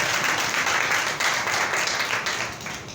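Loud, dense applause from a church congregation fills the space for several seconds, a steady wash of many hands clapping together during a Christian sermon, with faint voices underneath.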